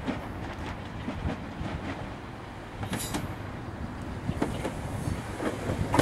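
London Midland class 170 train at Worcester Foregate Street, a steady rumble with faint rail clatter and a few sharper clicks throughout, moderately close and continuous, no talking.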